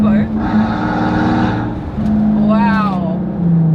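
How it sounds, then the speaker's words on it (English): A Maybach Exelero with a 700-horsepower turbocharged V12 drones steadily and loudly throughout, its low rumble continuous under a voice or music on top. "what you really feel is the sound from the engine"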